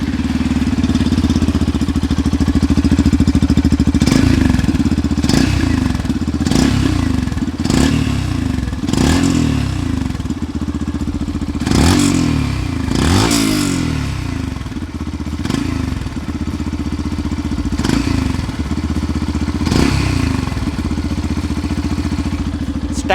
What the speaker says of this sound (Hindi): यू गेट अ नाइस बेसी exhaust note from this 150cc class computer motorcycle.